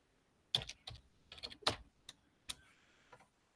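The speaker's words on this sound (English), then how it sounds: "so when I type hello" Keys clatter on a computer keyboard in short, sparse bursts of crisp clicks with pauses between them, close and fairly quiet in a still room, with no voices.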